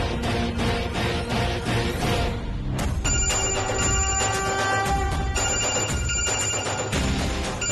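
An electronic phone ringtone from a television drama starts after a dense, pulsing opening and plays a bright repeating tonal melody, loud and close, with no speech.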